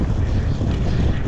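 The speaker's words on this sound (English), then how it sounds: "Windy." Wind buffets the microphone outdoors with a loud, continuous low roar and rumble across the whole short stretch, with no other sound coming through.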